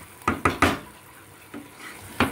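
Palak paneer stirred in a pan, a spoon scraping and knocking against the metal in a few quick strokes, then a pause and two more, close and fairly clear with a faint sizzle beneath.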